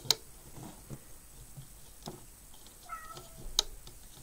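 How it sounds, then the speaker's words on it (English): A loud house cat meows in a few short calls near the microphone, with faint ticking and light handling sounds in an otherwise quiet room. "He is a very loud cat"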